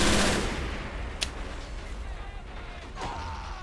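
A heavy machine gun unit fires in the Men of War Assault Squad 2 video game, a burst of loud gunfire at the start fading into a rumbling battle backdrop with a couple of sharp distant shots.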